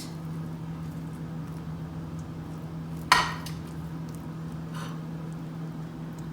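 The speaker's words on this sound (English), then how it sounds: "I'm going to put them on my plate." Cooked scrambled eggs go onto a plate in a home kitchen, marked by one sharp clink of utensil on dish against a quiet steady hum.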